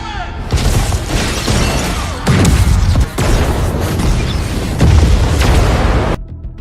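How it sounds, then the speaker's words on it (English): Loud, booming blasts and crashing debris repeat in heavy bursts, with brief gaps between them, close and dense throughout. "there was an explosion that destroyed the cargo door"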